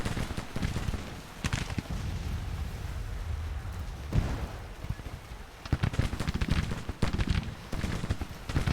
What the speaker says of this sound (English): Forgot about all that artillery.